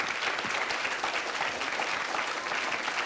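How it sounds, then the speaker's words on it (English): An audience claps for a judo club from Manchester at a televised children's event, giving a steady, dense round of applause that holds at an even level from start to finish. "Boys and girls, a big round of applause, please, for the KNK Judo Club in Manchester."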